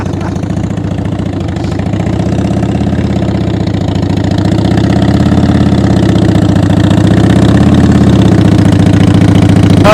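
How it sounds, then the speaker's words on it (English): A motorcycle engine running steadily at low throttle during slow-speed riding practice, a loud close rumbling drone with a faint uneven pulse, gradually swelling slightly, with no talk. "I can actually see his engine starting to shake when his throttle's too low."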